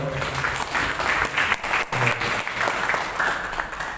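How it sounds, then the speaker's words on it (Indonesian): An indoor audience at an education gathering claps for the deputy minister, a dense, steady round of applause lasting about four seconds, loud and close. "Kita kasih aplaus untuk beliau."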